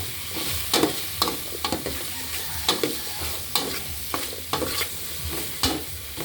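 Onion and garlic fry in a pan, a steady crackling sizzle punctuated by regular sharp scrapes and taps of a spoon stirring, close and clear with no voices.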